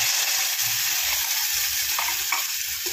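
Ground masala paste of dried coconut, garlic, ginger, tomato and coriander fries in hot oil with popped mustard seeds, giving a steady close sizzle with soft stirring scrapes and no voices.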